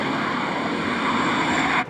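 A Lexus RC-F in Sport Plus mode accelerates with a loud, sustained engine roar that ends abruptly.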